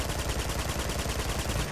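Rapid automatic gunfire from the video game Uncharted 2 rattles in a dense, continuous burst, loud and close, with no talk over it.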